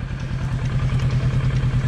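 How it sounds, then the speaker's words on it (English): A motorcycle engine runs loud and close with a steady, rhythmic pulsing throb, the revving continuous throughout with no talk over it. "Don't be revving the bike."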